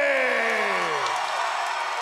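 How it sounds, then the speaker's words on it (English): A packed arena crowd at an FAC fight night roars and whoops wildly after a hometown fighter's first-round TKO, a dense, sustained wall of cheering with a falling yell near the start, loud and continuous. "The crowd's going absolutely wild, as they should."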